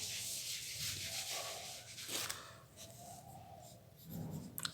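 Pen or marker scratching across a surface while working out an olympiad algebra solution, steady rubbing strokes with short pauses, close and moderately quiet, no talking.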